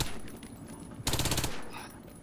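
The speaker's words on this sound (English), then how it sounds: "Hit the target with your SMG." SMG gunfire in the Warface video game: one short, rapid burst of shots that rises clearly above a low, steady background.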